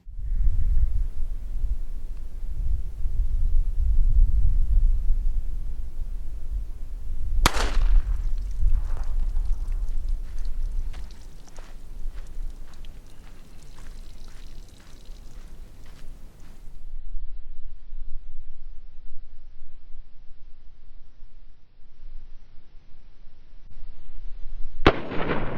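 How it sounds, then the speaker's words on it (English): A single sharp report from a Smith & Wesson EZ Shield .380 handgun firing 95-grain CCI Blazer ball ammo into 10-pound clay blocks outdoors, a loud crack amid a low wind rumble, with a faint second pop near the end. "We're getting ready to shoot at these 10-pound blocks of clay using a .380."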